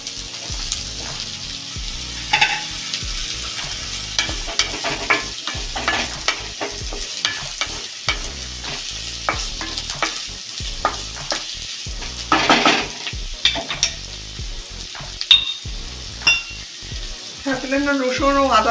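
Onion and potato fry in a little oil with garlic and green chili, a low sizzle broken by frequent clattering stirs and spoon knocks against the pan, fairly close, with rattling metal toward the end.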